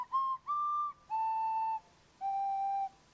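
A flute plays four clear, sustained notes, moving between higher and lower pitches and separated by short gaps. The notes are close and unaccompanied.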